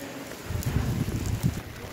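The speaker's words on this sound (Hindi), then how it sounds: "और काफ़ी बारिश चालू है" Heavy rain falls on a jungle trek route in the Malshej Ghat hills, a dense, continuous patter with gusty low rumble, close and fairly loud throughout.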